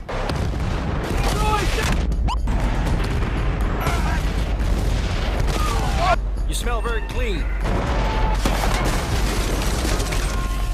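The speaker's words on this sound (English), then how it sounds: "Battlefield Bad Company blows up a lot of things really well" Explosions and gunfire from the video game Battlefield: Bad Company, a dense, continuous barrage of booms and bursts of shots at steady loudness, with a voice speaking briefly over the din.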